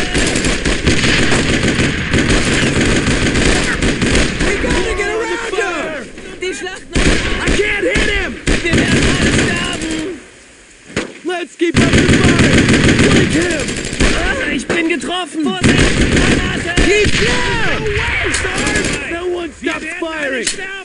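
Rapid machine-gun bursts and heavy gunfire with booming artillery in the World War II shooter Brothers in Arms: Road to Hill 30, loud and nearly continuous with brief lulls, while players shout over it.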